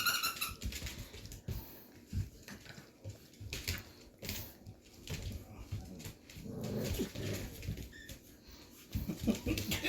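Puppies play with a squeaky toy indoors: scattered squeaks, scrabbling paws and small whimpers come in uneven bursts, fairly close and moderately quiet, with only faint traces of voices.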